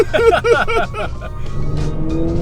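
A car engine heard from inside the cabin climbs steadily in pitch under hard acceleration, with a brief burst of wavering tones at the start.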